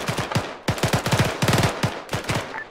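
Rifle fire in Arma 3 aimed at a vehicle's tires: several close, sharp bursts of rapid shots, each volley broken off by short gaps, loud with nothing else over them.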